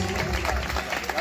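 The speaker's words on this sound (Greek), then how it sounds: "Ένα θερμό χειροκρότημα στο κλαρίνο" A crowd applauds the clarinet player at a traditional folk music and dance evening in Pefkofyto, Mouzaki, Karditsa. A fairly loud, dense patter of clapping runs beneath an announcer's amplified voice.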